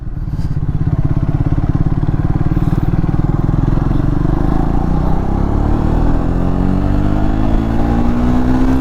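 A Triumph Speed 400 motorcycle engine accelerates steadily, its loud throbbing exhaust note climbing smoothly in pitch throughout, close and continuous with no talking.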